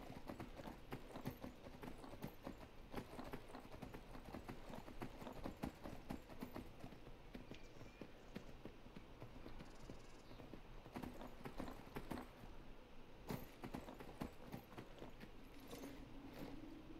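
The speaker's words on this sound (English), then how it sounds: "Come on, horse, let's go." Horse hooves clip-clop steadily on a road in Skyrim, a continuous walking rhythm heard close and alone with no talk.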